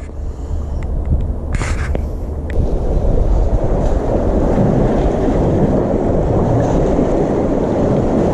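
Strong wind buffets a harbor during lure fishing for rockfish at Daepo Port, a loud, continuous roar and rumble on the microphone with a brief brighter rustle early on.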